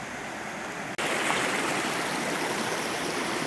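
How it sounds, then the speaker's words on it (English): A jungle river in northern Thailand rushes steadily over rocks, a loud, continuous broadband wash of water that swells suddenly after a brief quieter opening and holds constant, with no voices present. "Ah, check it out. A river."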